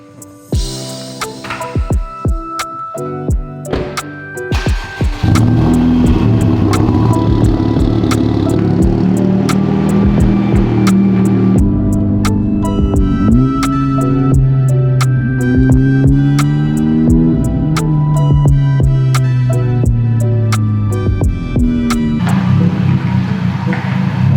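A car engine that is throwing fault codes runs steadily and loudly throughout, with revving pitch shifts and rattling clatter as the vehicle drives along.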